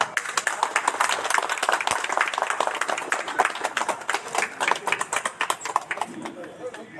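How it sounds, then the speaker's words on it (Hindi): A crowd at a hospital ribbon-cutting ceremony in Ballia claps in uneven, scattered bursts of sharp hand claps, with a murmur of voices mixed in throughout. "ताली जोर से।"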